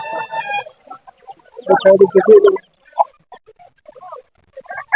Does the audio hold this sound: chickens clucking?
yes